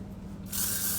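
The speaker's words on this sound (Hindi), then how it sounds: "लाइट स्प्रे है। Light spray" Light hair spray hisses out in one short burst, close and bright, starting halfway through after a quiet moment.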